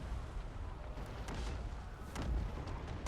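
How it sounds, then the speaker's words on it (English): In the Anno 117 game, a volcano erupts with deep, rolling rumbles and a few muffled booming bursts over a dense, distant roar, all fairly quiet. "Don't mind the violent explosion and eruption, okay?"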